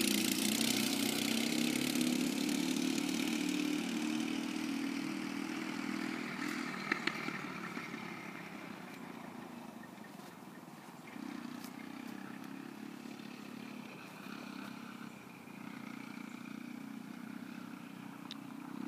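A go-kart engine runs in a steady, buzzing drone that is loud at first, then eases somewhat and holds, with a few small clatters over it.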